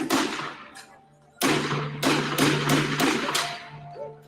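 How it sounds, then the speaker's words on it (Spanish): Gunfire at night near a street protest: one sharp shot, then after a pause a rapid burst of about six loud, cracking reports in a row that echo off the surroundings. "Le sigue una ráfaga de al menos 6 detonaciones seguidas."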